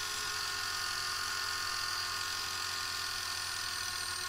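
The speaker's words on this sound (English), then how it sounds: "we'll go ahead over to the watchmaker's lathe and burnish that pivot end there" A watchmaker's lathe spins while burnishing a clock pivot end, giving a faint, steady high whirring hum with no change throughout.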